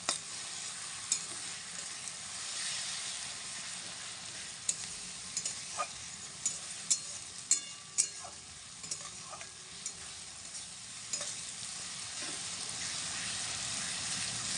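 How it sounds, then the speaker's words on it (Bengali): Spice masala paste fried and stirred in a pan, a soft, constant sizzle with scattered light taps and scrapes of the spoon at uneven intervals, fairly quiet and with no voices. "মশলাটা আমি ভালো করে কষে নেব যাতে মশলাটা থেকে কাঁচা গন্ধ না ছড়ায়"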